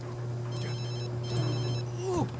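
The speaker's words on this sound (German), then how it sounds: "Ein Telefon." A telephone rings in the video game The Sims 3 with a bright, electronic repeating tone in short bursts over a low background hum, and a voice briefly sounds near the end.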